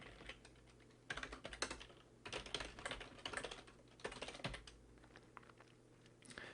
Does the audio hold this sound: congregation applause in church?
no